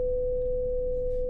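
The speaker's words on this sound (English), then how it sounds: "500 hertz sounds like this." A single pure, steady 500 hertz test tone holds at one pitch without wavering, clean and constant for just over a second.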